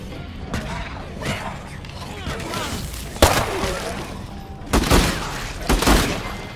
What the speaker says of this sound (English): Good shooting.